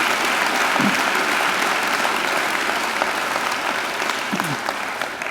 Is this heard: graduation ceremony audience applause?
yes